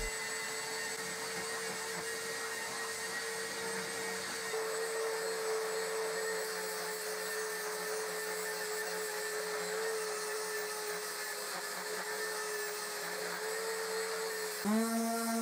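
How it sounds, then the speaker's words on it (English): Belt sander levelling the end-grain surface of a salvaged oak chopping board with a coarse belt, a steady loud whine and grinding hiss running throughout, shifting pitch briefly near the end. "I used my belt sander to level each surface."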